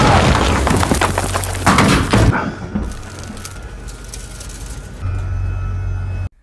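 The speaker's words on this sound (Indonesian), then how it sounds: "Rheandon yang berada di belakang pun langsung menembakkan satu meriam" A tank's main cannon fires in a war movie, a heavy booming blast over dense battle noise, followed by a quieter rumbling stretch and then another loud low rumble near the end.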